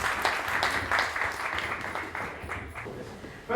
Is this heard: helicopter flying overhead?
no